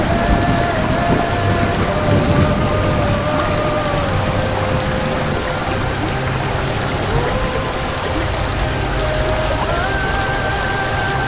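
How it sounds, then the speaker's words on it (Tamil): Heavy rain pours steadily while floodwater rushes through an apartment residential area in suburban Chennai, a dense continuous roar with no speech. "குடியிருப்பு பகுதிக்குள்ள மழை நீர் வெள்ளம் போல ஓடும் காட்சி"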